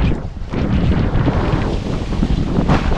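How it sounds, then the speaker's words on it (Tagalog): Sea waves churn around a fishing boat out on open water, a rough, continuous wash and slosh with gusts of wind buffeting the microphone, loud and close, no talk. "Ang alon ayaw tumigil ang alon."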